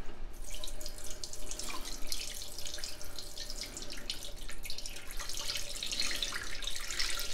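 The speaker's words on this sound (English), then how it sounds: "I'm putting in 3 liters of no salt beef broth" No-salt beef broth pours steadily into a stew pot, a continuous close splashing and gurgling stream with no talking.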